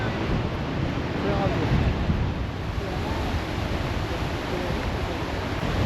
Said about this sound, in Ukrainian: І сьогодні ми бачимо Тихий океан зовсім не тихим. Хвиля.